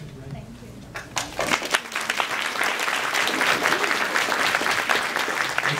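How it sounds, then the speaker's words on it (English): Applause from the audience at a Barnes & Noble book event in New York breaks out after a moment of talk and swells into steady, dense clapping that fills the room and carries on to the end. "Let's have another warm round of applause for Gillian and Jeff."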